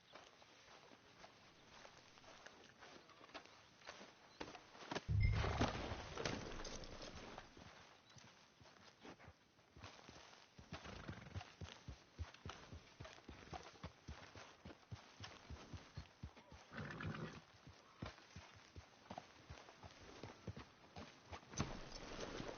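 Horse hooves clip-clop steadily over ground in Red Dead Redemption 2, a close, rhythmic stream of footfalls with a louder burst partway through and no talk.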